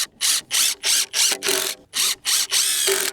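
A power drill driving 2.5 inch screws, heard up close as eight loud, rapid bursts of whirring in quick succession with short gaps between them.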